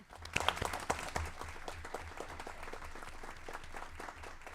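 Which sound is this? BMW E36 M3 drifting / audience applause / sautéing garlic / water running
audience applause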